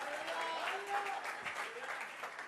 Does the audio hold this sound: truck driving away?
no